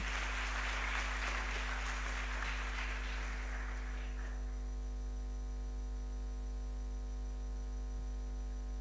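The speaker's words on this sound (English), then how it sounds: "please give a big applause for the 2 keynote speakers of today" Applause for keynote speakers at an international seminar, a burst of many hands clapping that dies away after about four seconds, leaving a loud electrical hum and buzz that runs under the whole clip.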